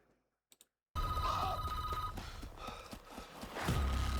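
A telephone rings in a Resident Evil movie trailer, a loud, continuous ring amid tense music and rumbling effects.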